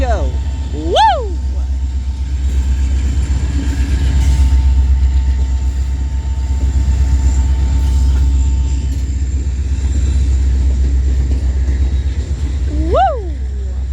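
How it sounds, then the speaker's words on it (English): Union Pacific manifest freight train, led by an SD70-series locomotive, rumbling loudly past Central Avenue in Metairie with a deep continuous roar, sounding short horn toots near the start and again near the end while a person talks. "First train of the day in Metairie with the Little Horn Show."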